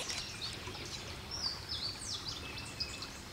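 A small water bird sings outdoors, faint high chirps and whistled notes over steady wind and background noise, quiet and distant.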